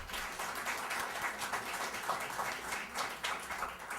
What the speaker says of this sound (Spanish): A todos ellos recibimos con fuertes palmas,